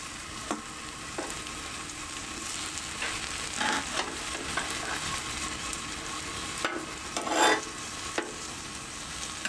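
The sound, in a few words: artisan bun toasting on a Blackstone griddle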